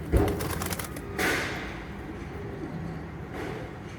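A competition flying pigeon comes in to land, a brief burst of wing flutter and a soft thud against faint outdoor background noise.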